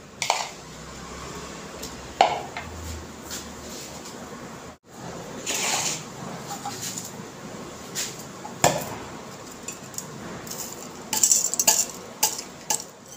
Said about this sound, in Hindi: अब इन सबको हम अच्छे से मिक्स कर देंगे।